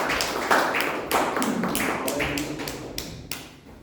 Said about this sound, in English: Please join me in giving a big round of applause as we welcome our club president